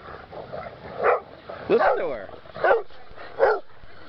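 Several short, close dog barks and yips come in bursts, with a person talking between them.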